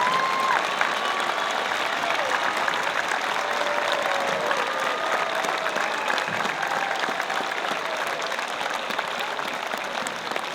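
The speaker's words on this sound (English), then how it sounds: "how about one more round of applause for our Gold Star" Stadium crowd applauding Gold Star families during a high school football pregame ceremony, a loud, sustained wash of clapping with scattered cheers and a few faint whistles running unbroken throughout.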